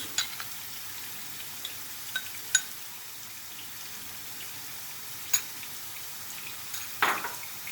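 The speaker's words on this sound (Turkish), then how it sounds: "Unumuzu karıştırıyoruz. Kavurmak için." Flour stirred and roasted in a small amount of oil in a pot for mushroom soup, giving a faint, steady sizzle with a few soft scraping clicks and a slightly louder scrape near the end.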